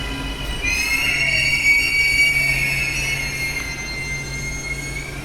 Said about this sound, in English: Which will be a Southern Line train